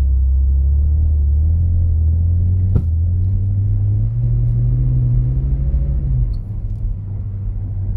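A BMW in third gear creeps slowly up an icy hill, its engine a loud, low, steady drone that rises slightly in pitch before easing off, with one sharp click midway.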